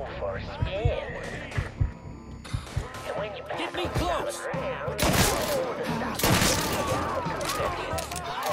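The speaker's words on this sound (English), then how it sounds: "I didn't know there was a guy with a machine gun." Bursts of machine gun fire in Mafia III, rapid crackling volleys mixed with thuds and game sounds, a voice talking over the action throughout.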